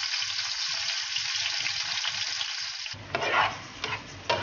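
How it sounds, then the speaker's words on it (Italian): Chopped cherry tomatoes sizzle steadily in hot garlic-infused oil, a loud continuous fry that grows harsher partway through with a few sharper spits and crackles near the end. "Aggiungiamo quindi nell'olio il pomodorino tagliato a pezzettini"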